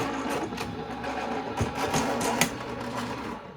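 An electric die cutting machine runs with a steady mechanical whirring and grinding, broken by rattling clicks and a thump, loud and close.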